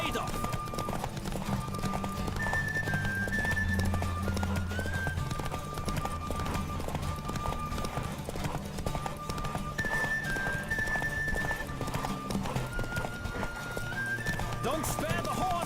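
In The Witcher 3, a horse gallops at a steady clip through a race while music plays and a voice cheers over the pounding hooves.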